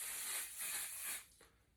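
Aerosol hairspray blasts onto wavy, curled hair in one sustained hiss lasting over a second, close and alone, then cuts off with a faint trailing puff.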